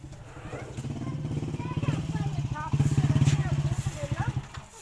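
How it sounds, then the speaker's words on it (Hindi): A motorcycle engine putters and rumbles nearby, its pulsing thrum rising as it draws closer while people talk over it. "बाइक की आवाज़ आ रही है"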